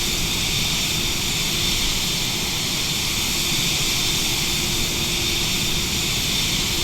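Vision Jet G2 engine in flight in Microsoft Flight Simulator 2020: a steady, loud cabin roar of jet engine and airflow noise with a faint high whine, constant throughout.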